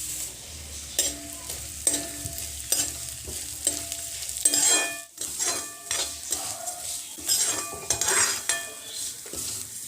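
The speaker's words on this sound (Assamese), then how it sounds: "এইখিনি গৰম হৈ গ'ল আৰু ইয়াত মই চিৰাখিনি ভাজি লম।" Flattened rice (chira) frying in ghee in a hot wok (kerahi), with a steady sizzle broken by repeated stirring scrapes and clinks of a utensil against the pan, close and moderately loud.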